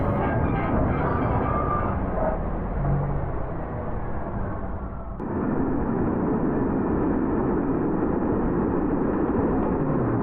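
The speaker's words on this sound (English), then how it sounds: "This train derailment happened in the US" A train derailing on the tracks in the US gives off a loud, continuous rumbling roar that grinds on without a break, with a sudden shift in texture about halfway through.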